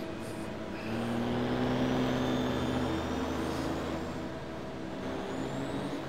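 A racing truck engine in the Formula Truck video game drones steadily with a low, sustained tonal hum and a slight pitch rise and fall, up close and continuous, with no talking.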